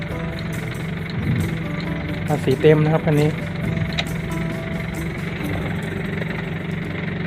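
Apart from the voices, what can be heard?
pickup truck engine idling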